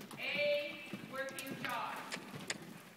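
A horse lopes around a riding arena at a western-style dressage clinic. Soft, rhythmic hoofbeats sit under a person talking nearby.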